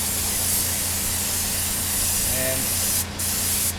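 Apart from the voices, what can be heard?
spray painting motorcycle part red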